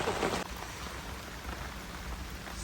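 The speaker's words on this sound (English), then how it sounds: "So we are just getting rain on" Steady rain pours down on a primitive campsite, a dense, even hiss of drops hitting tents and soaked gear, somewhat louder in the first half second and then continuous throughout.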